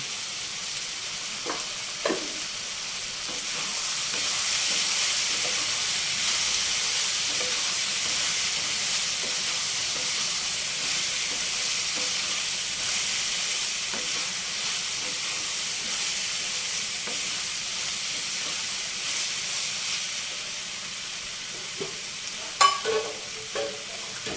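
Mixed vegetables with chilli powder and salt fry in a pan for a paneer curry, giving a steady soft sizzle and hiss throughout, with occasional faint clinks of stirring near the end.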